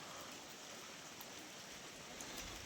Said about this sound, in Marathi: आता पण बारीक बारीक पाऊस चालूच आहे